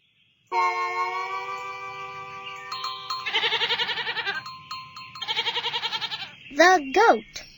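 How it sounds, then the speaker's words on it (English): A goat bleats loudly and close by. It opens with one long, steady, nasal bleat, follows with two wavering, vibrato-like calls and ends with a short rising and falling cry. "The goat."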